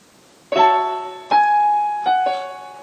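Piano playing two bars of a song: three struck chords with sustained ringing tones, each decaying before the next, close and clear with no voices.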